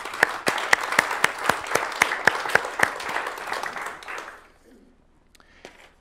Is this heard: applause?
yes